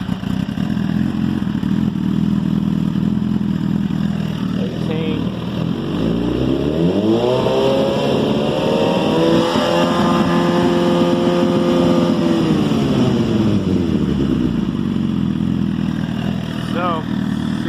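A Suzuki GSX-R1000 motorcycle engine, fitted with a new rectifier and stator, runs loud and close, rising in a sustained rev to about 5,000 RPM, holding steady, then dropping back to idle.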